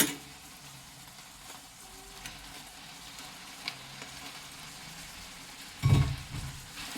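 Chicken sizzles in a pan with a soft, steady frying hiss, and a louder burst of crackling and stirring comes near the end.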